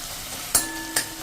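Tomatoes cook in oil for a bottle gourd kadhi, giving a soft, steady sizzle broken by two sharp clinks of a utensil against the pan.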